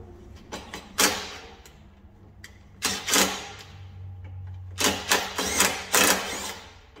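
A small 3/8-inch cordless ratchet runs in several short bursts, loud and close, with whirring, clicking pulses separated by brief pauses, during work on a trailer tongue.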